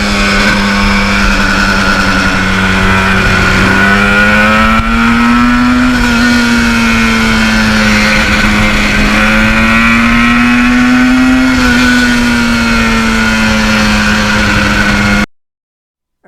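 A 1977 Yamaha RD400 two-stroke motorcycle engine runs loud and close, holding a steady buzzing drone that swells and eases in gentle revs before cutting off abruptly at the end.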